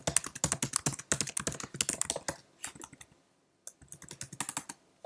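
Rapid keystrokes on a Mac computer keyboard while an email is typed in Outlook, a dense burst of clicks that pauses briefly, then resumes in shorter clusters, close and clear with no talking.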